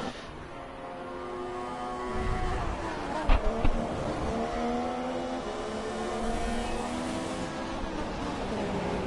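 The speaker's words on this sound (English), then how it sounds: "So Fanus on the penultimate lap of the Bahrain Grand Prix for Formula 1 performance" Formula 1 race cars roar around the Bahrain Grand Prix circuit in a video game, a loud sustained engine whine with shifting pitch as cars pass, and a commentator talks over it.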